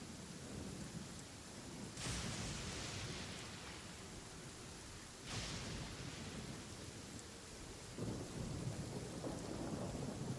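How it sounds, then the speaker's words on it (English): In Genshin Impact, lightning strikes bring three loud thunder cracks and rolling rumbles over steady heavy rain, spaced a few seconds apart and with no voices. "I'm pretty sure she just got hit by lightning based on the audio"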